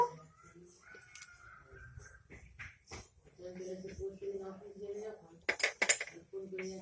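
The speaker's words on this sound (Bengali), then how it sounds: "ব্যাটারটাকে ভালো করে ওই তেলের সাথে একটু মিশিয়ে নিব" A spoon works oil into besan dhokla batter in a bowl, giving soft scraping swirls and bright clinks against the bowl's side near the end, with a voice faintly underneath.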